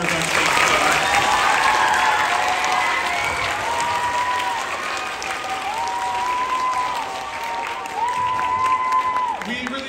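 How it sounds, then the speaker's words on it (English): Sustained audience applause at a fifth-grade recruiting concert, steady and full for the whole stretch, with a few faint voices and sustained tones rising briefly above the clapping. "If we could have one more round of applause for all of our performers on stage today"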